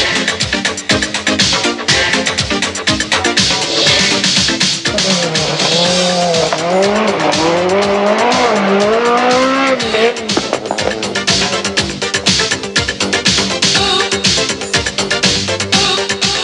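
Peugeot race cars on the 1989 Pikes Peak hill climb roar up through the gears with tires squealing and skidding on the corners. The engines rise and fall loud and close, the noise continuous.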